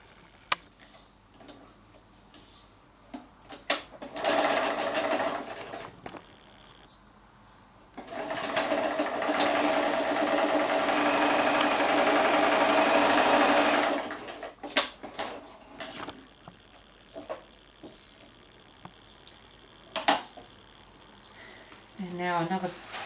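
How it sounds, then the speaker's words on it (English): A sewing machine stitching a strip of joined 5-inch quilt squares, running in short whirring bursts with one long steady run in the middle, close by, with occasional clicks and brief talk. "And now I'm going to sew that strip onto another little joined 2 squares bit."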